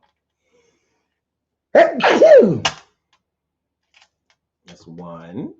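A person sneezes loudly twice in quick succession, and talk follows a few seconds later.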